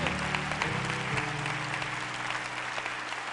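Applause from an audience at a spoken-word performance, a dense steady clapping that holds evenly throughout, with a low hum underneath and no voices over it.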